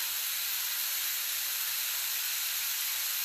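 Shrimp casings sautéing in a pan, a steady, even hiss and sizzle throughout with no voices.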